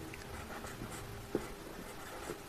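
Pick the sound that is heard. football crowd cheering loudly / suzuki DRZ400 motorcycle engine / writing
writing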